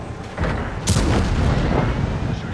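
A tank cannon blast in a World of Tanks style battle on the Prokhorovka and Mines maps, heavy booming report rolling into sustained rumble and crackle, loud and close with no talking.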